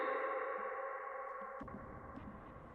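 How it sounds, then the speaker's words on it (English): Spring reverb effect ringing out as a metallic, sonar-like wash with pinging tones, a sharp clang near the middle followed by a fading, rattling tail, fairly quiet overall. "you can see that spring reverberating"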